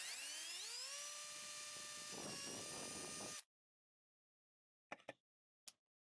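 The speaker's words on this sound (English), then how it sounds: "Start with a very small drill bit," A very small drill bit cuts a pilot hole into an Xbox power supply casing, a steady high whine for about three seconds that cuts off abruptly, followed by two brief faint clicks.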